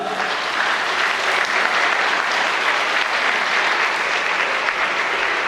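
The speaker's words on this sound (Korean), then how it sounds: "여러분들의 박수로 시작하겠습니다" Wedding guests break into sustained applause to open the ceremony, a dense, steady wash of many hands clapping at close range for the whole stretch, with no voices over it.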